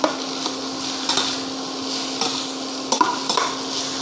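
Pasta frying in a pan, cooked lightly, gives a steady loud sizzle. A few scraping stir knocks cut through it at intervals, and no one speaks.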